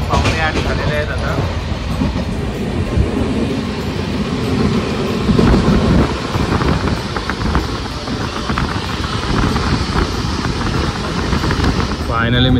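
A passenger train rolls along the rails toward Solapur station in Maharashtra, making a loud, steady rumble with rattling wheels throughout and faint voices inside the carriage.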